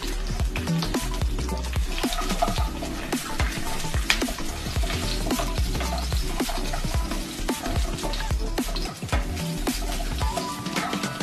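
Cashews and raisins fry in a mix of ghee and oil with a dense, steady sizzle and crackle that stays loud and even throughout, with no talking.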